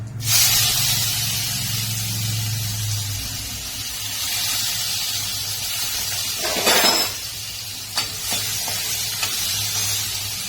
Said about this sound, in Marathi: जरा ब्राऊन झाली ना जिरी मोहरी, नंतर मग प्याज